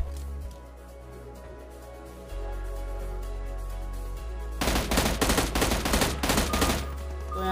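M16 assault rifle fire in PUBG Mobile, recorded on a OnePlus 8: after a low, steady game backdrop, a loud burst of rapid automatic shots rattles continuously for about three seconds.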